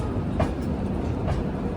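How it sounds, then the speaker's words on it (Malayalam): The Gatimaan Express pulls into platform 7 of Jhansi railway station in Uttar Pradesh after its run from Hazrat Nizamuddin. A short, steady rumble of rolling carriages carries faint wheel clacks and no voices. "ഡൽഹി ഹസ്രത് നിസാമുദ്ദീനിൽ നിന്നും 403 കിലോമീറ്റർ യാത്ര ചെയ്ത് ട്രെയിനിപ്പിത ഉത്തർപ്രദേശിലെ വീറാങ്കന ലക്ഷ്മിബായി ഝാൻസി റെയിൽവേ സ്റ്റേഷനിലേക്ക് എത്തുകയാണ്."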